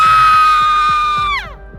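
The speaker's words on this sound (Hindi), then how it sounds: "इलाके से आ रही एक औरत के चिल्लाने की आवाज़" A woman's long, piercing scream as a sound effect in an audio drama, set on a cold, moonlit December night. The scream is sustained and very loud, then breaks off into a falling wail, with faint low thuds beneath it.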